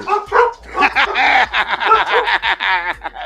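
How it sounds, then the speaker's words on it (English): Four pet dogs yip and bark in a quick, excited burst up close, mixed with chuckling laughter from people in the room. "dogs are barking."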